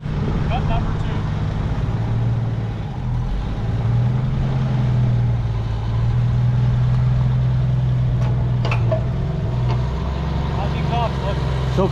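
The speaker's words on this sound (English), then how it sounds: "So I'll go up, I'll see if the ramps kick up and see if this was enough to keep the exhaust from dragging." Lowered car slowly creeping up trailer ramps, a steady low engine drone holding throughout at close range, with people talking over it.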